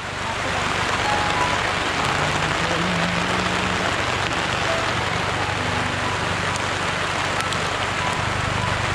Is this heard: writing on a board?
no